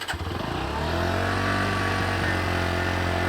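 A Bajaj NS 125 motorcycle engine starts with a quick cranking stutter, then settles into a steady, close idle that runs alone.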